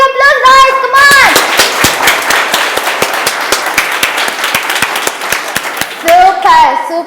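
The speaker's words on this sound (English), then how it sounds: "Give a big applause, guys, come on!" Applause at a kids' talent show, with sharp, loud claps and whoops ringing out close by and a voice shouting over the start and end.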